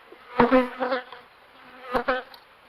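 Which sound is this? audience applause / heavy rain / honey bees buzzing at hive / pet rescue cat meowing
honey bees buzzing at hive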